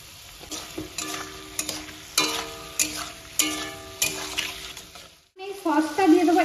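Onions fry in a pan with salt added, the utensil scraping and clinking in a steady rhythm over a soft sizzle, close up, ending in a brief burst of bubbling.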